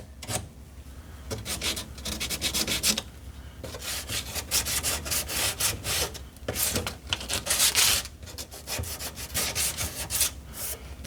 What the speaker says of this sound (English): finding and just taking a little bit of sandpaper